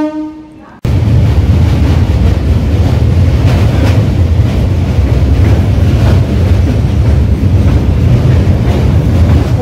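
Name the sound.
Silchar Express train entering Naihati Junction platform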